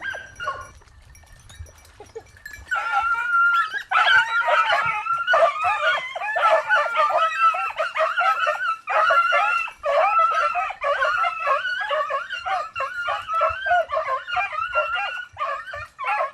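A hunting dog pushed into a bramble thicket yips, whines and yelps almost without pause at close range, loud and shrill, after a few quiet seconds at the start.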